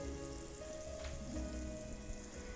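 Carrots sizzle steadily in a hot cast iron pan while being stirred, a constant close crackle with soft scraping movement and no talking.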